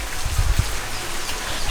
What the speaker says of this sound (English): How can you film this in this rain?